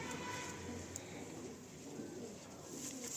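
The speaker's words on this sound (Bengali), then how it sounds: "এটা নর পায়রা" A male KTM pigeon in a loft coos softly and continuously, its low murmur steady beneath faint background hiss.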